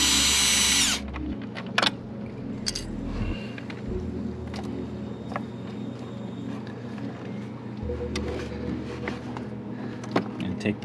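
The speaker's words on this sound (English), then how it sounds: "First thing I'll do is remove these two screws over here that sort of clamp the wires into the control box." Power drill backing screws out of a hot tub control box on an Artesian South Seas Spas 748L: a loud burst of whirring at the start, then quieter clicks and handling noises over a steady low hum.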